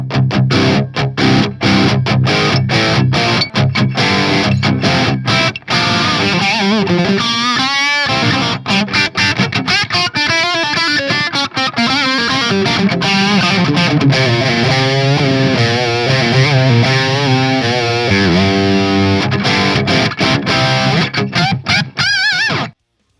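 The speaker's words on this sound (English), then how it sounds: "And then you can add some crunch there." An electric guitar plays continuously through a crunchy, distorted tone, loud and close, with chords and single notes ringing for over twenty seconds.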